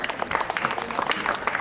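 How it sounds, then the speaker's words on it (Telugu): Audience clapping at a Vinayaka Chavithi festival ceremony during the annual celebration, a dense burst of handclaps close by with crowd murmur underneath. "చప్పట్ల"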